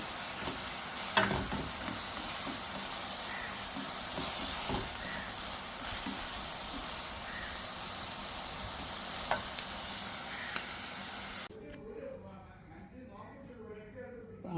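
Steady sizzling of vegetables sautéing in a pan for macaroni pasta, with occasional stirring clicks, loud and close, then it suddenly drops to quieter background with faint voices.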